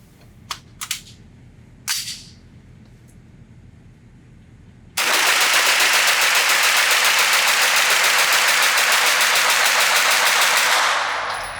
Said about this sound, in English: just go to town and shoot this thing as fast as I can